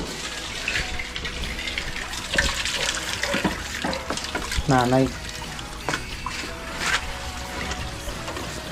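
Water pours and splashes from a Jetmatic hand pump in steady irregular gushes at close range, with a brief squeaky stroke midway, while people talk in Filipino over it.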